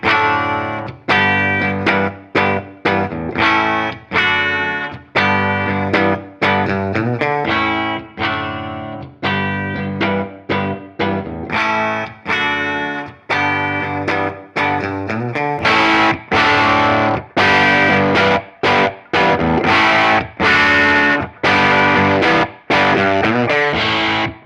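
Electric guitar played through a Scoop & Scream distortion pedal, chords and riffs heavily distorted, loud and up close with short gaps between phrases and a brighter, fuller section toward the end.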